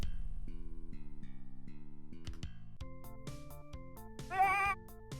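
A goat bleats in the video game Super 3-D Noah's Ark, a wavering cry near the end of a stretch of chiptune-style game music, loud over the melody.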